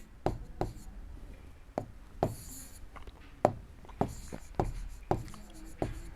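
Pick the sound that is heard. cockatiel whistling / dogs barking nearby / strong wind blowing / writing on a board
writing on a board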